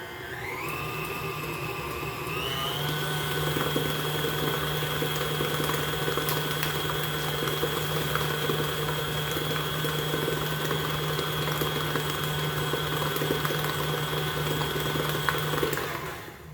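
A food processor blade whirs steadily as it mixes strawberry powder into cake batter, a constant loud motor hum that rises in pitch after a couple of seconds and runs unbroken until it cuts off.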